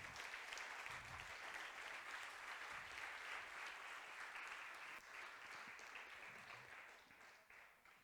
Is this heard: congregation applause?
yes